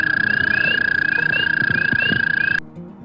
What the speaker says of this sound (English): American toad.